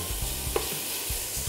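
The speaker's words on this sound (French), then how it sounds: "On les fait revenir sans gras" Small bacon lardons sizzle in a pan with no added fat, a steady frying hiss broken by a few light stirring scrapes and clicks.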